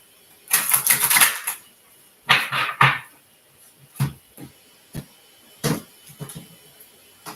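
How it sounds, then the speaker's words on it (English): Tarot cards shuffled in several separate bursts, a longer riffle at first, then shorter close crisp flutters and taps with pauses between. "One more shuffle."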